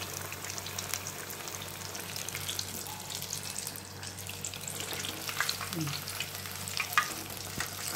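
Etheka appam, Kerala banana fritters, frying in hot oil with a steady dense sizzle and crackle throughout, a low continuous hum beneath, and a few brief clinks near the end.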